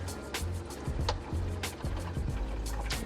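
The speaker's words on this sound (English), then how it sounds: "you can hear the water coming back down" Water from a reef aquarium return pump trickles and splashes back down into the sump, a steady close gurgle with soft intermittent spatters.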